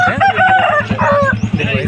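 At a rooster market in Vijayawada, a large rooster of about four kilograms gives a loud, close crow with clucking from other fowl and nearby chatter mixed in.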